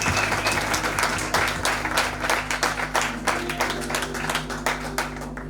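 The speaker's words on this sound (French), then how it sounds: "Est-ce qu'on peut acclamer?" Audience applause fills a church convention hall, steady dense clapping with a few louder bursts throughout, sustained and close, over a low constant hum.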